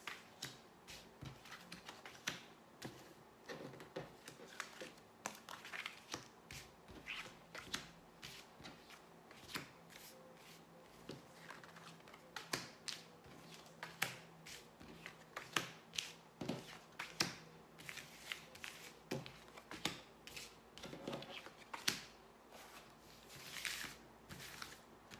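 Cards being shuffled and drawn one by one to lay out a 13-card spread, a quiet, close run of crisp snaps, riffles and taps that continues steadily throughout with no talking.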